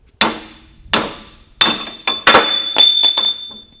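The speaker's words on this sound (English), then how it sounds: "hit this with the hammer and push that out of there" Hammer blows driving a wheel bearing out of a front axle spindle on a Corporate 10 Bolt/Dana 44: three sharp, ringing metal strikes spaced apart, then a quicker cluster of hits with a metallic ring, close and loud.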